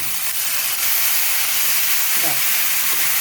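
Water poured into a hot pan of frying broccoli bursts into a loud, steady steaming hiss that fills the whole moment, close up, with a faint voice briefly underneath.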